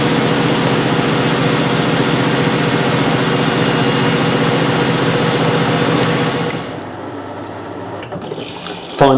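A Miele W562 washing machine spins at 900 RPM with a loud, steady whirring roar that suddenly drops away after several seconds, leaving a quieter hum and a few clicks.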